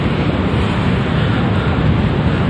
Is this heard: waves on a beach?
yes